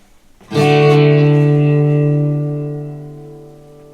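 A single sustained electric guitar note rings out with distortion and reverb, slowly fading before a noise gate abruptly cuts it to silence.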